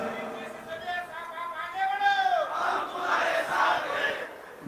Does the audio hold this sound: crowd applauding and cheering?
yes